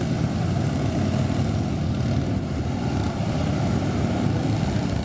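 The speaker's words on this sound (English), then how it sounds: "you can see that the engine speeds are actually quite low" Police motorcycle engines running at low speed during tight circling maneuvers, a steady low idle-like drone throughout with no talking.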